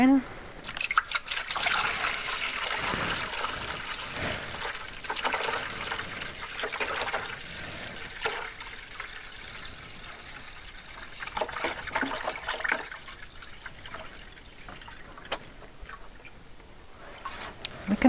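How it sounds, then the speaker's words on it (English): Liquid nutrient solution poured into an AeroGarden indoor hydroponic planter, heard as a soft, uneven trickling and dribbling that lasts through the pour, with small splashes and bottle handling close by. "Let's pour her in."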